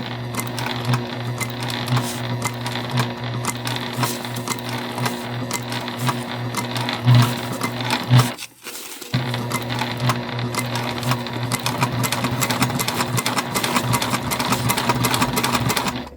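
Juki TL2 sewing machine stitching a seam on a drawstring backpack, a close, steady rapid whir that stops briefly partway through and then resumes at an even pace.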